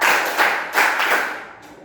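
A group clapping in unison during an education training session, with roughly four loud, crisp collective claps in a quick rhythm, each a little ragged, then fading.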